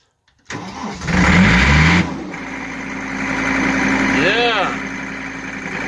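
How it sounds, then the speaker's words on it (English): A John Deere 328 skid steer diesel engine cranks and catches, then settles into a steady idle and revs up briefly before easing back, loud and close. "Then you want to rev it a little bit. Push your accelerator up a little bit."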